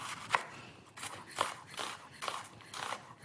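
A knife chops a red onion on a cutting board in about five distinct, evenly spaced strokes, close and crisp with quiet gaps between them.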